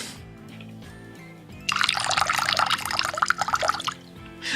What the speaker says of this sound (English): when I pour the water, right? It sounds so wrong.